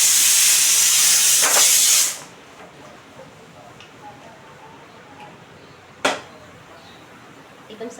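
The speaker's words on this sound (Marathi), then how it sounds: "कुकर पण अजून एकच शिट्टी झाले, अजून 3 शिट्ट्या काढून मग कुकर पण होऊन जाईल." A pressure cooker vents steam on a kitchen stove while eggplant and potato curry cooks, a loud sustained hissing whistle for about two seconds that stops abruptly, followed by quiet room tone and a brief later click.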